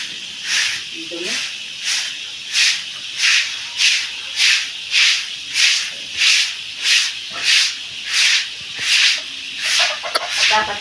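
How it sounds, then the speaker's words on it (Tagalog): A stiff brush scrubs dirt from the floor of a pig pen in loud, even back-and-forth strokes, about one every 0.7 s, repeated steadily for several seconds. "Dapat ay binabras para matanggal ang mga singit-singit na lupa"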